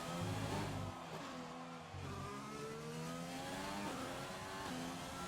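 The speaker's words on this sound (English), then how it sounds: "In through the hairpin now, and it's looking pretty clean and tidy for the McLaren." McLaren Formula 1 car in the racing game F1 2020 at the Mexico Grand Prix, its engine note dropping through a hairpin and then revving up again, quiet and steady with gear-change steps.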